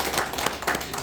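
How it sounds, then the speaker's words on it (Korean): A church congregation at Sunday worship clapping in welcome for two elderly guests: a dense, close burst of applause with no voices. "아버님에게 박수로 환영합니다."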